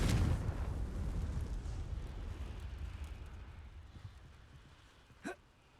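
A Confringo spell explodes in Hogwarts Legacy with a fairly faint burst at the start that fades into a long, low rumbling tail, followed by a small late blip.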